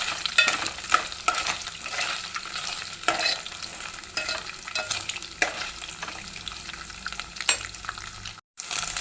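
Small methallu fish fry in hot oil in a pan, a continuous crackling sizzle broken by the scrape and clatter of stirring, fairly quiet and close, with no one talking.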